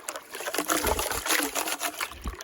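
Water trickles and splashes steadily through a super sluice set in a gold-prospecting creek, a close, continuous wet gurgle with small surges, and no voices.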